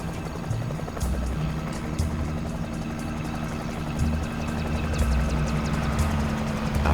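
A helicopter flying during rhino darting in Kenya, a steady low rotor and engine drone with rhythmic thumping pulses, moderately loud and continuous, with faint fluttering rotor noise above.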